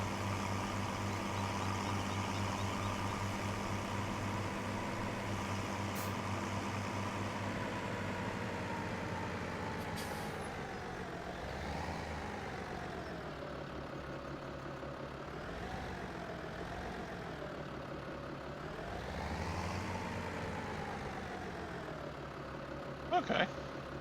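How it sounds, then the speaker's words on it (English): Steady drone of a tractor engine in Farming Simulator 17, a continuous low rumble that rises and dips in pitch as the vehicle changes speed, with a brief click near the end. "Speed up the game and go park the tractor."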